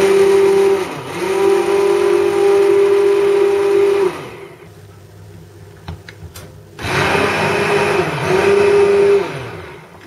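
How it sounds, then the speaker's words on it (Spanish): Hand blender whirring loudly as it purees pumpkin curry soup, a steady motor drone with pitch dips as the blade meets the thick mixture, cutting out briefly midway before starting up again. "lo que vamos a hacer es pasar la batidora para hacer la crema"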